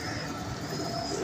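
Pigeons on a breeding rooftop, kept in pairs, make soft, low cooing calls that run continuously at moderate volume over a faint background hiss, with no talking.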